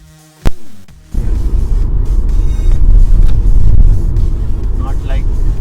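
A Škoda Kushaq with a DSG gearbox on a test drive: after a brief sharp click, a loud, steady low engine and road rumble fills the cabin, with people talking over it.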